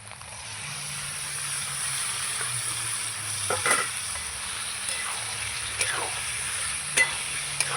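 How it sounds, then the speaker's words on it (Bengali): Fish stirred into fried spice paste in oil sizzles steadily in a pan, with several sharp spatula scrapes and knocks against the metal over the hiss, no voices. "ভালো করে মাছটার সঙ্গে মশলাগুলো সব নেড়ে চেড়ে মিশিয়ে নেব"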